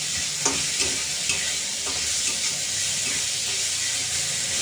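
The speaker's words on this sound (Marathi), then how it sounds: "आपण आता ही मुगाची डाळ टाकून थोडंसं याच्यामध्ये परतून घ्यायचं" Moong dal is stir-fried with onions in a pan, giving a loud, continuous close-up sizzle and hiss, with a few faint scrapes of stirring underneath and no speech.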